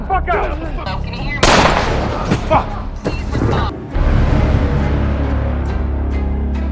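Gunfire from a gang of armed robbers in a film scene: loud, dense bursts of shots across the clip, with shouting voices mixed in among the blasts.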